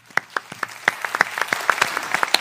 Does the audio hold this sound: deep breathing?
no